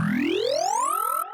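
A synth wavetable patch called all diesel engine, a bright buzzy tone sweeping steadily upward in pitch for about a second, then holding one note before a short, quieter tail, heard alone.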